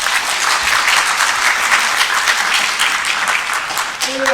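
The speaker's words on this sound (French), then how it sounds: "on peut l'applaudir s'il vous plaît" An audience at a gaming convention influencer panel applauds a guest, dense steady clapping filling the hall for several seconds before it begins to thin out at the end.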